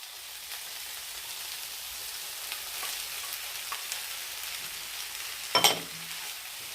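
Roasted yam tossed into a hot pan and stirred gently, giving a soft steady sizzle with faint scraping and a brief clatter of the spoon near the end; no talking.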